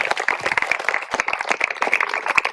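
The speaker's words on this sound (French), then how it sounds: "on peut les applaudir très fort." An audience at a parish gathering applauds, dense crowd clapping that stays steady and lively throughout, heard close and without talk.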